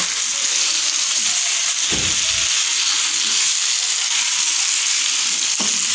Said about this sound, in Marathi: जबरदस्त असे आपण हे फ्राय करून घेत आहोत